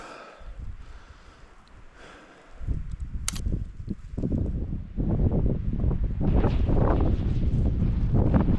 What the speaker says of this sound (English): Very windy, but very beautiful.